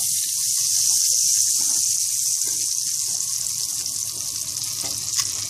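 Butter melting in a pan gives a steady, loud sizzle and hiss that lasts throughout, with faint clinks underneath and no voices.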